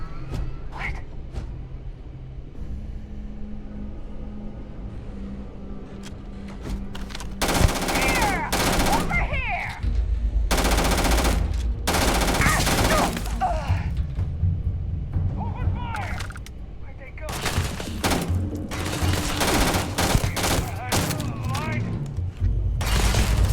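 Video game gunfire erupts in repeated loud bursts of automatic shots with short gaps between, spread across a stretch of play with booms and background game noise and a person speaking at times.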